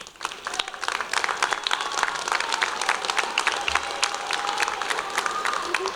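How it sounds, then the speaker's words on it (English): A graduation audience for the class of 2024 gives a sustained round of applause, many hands clapping in a steady dense wash with some crowd noise, fairly distant and even in level. "give them a round of applause"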